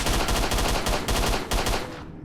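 Rapid bursts of submachine gun fire in S.T.A.L.K.E.R.: Shadow of Chernobyl, loud and close, with short rhythmic volleys separated by brief pauses before trailing off.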